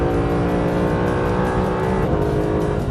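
A Mercedes SLS AMG Black Series V8 roars hard in second gear out of a hairpin onto a race circuit straight, a loud, continuous onboard engine drone with a brief gearshift dip.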